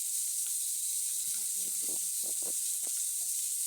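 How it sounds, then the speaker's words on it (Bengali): Small chanda fish fry in hot oil, giving a loud, constant hissing sizzle with scattered pops and crackles, close up and without speech. "ছোট ছোট মাছ একটু সাবধান করে ভাজতে হবে"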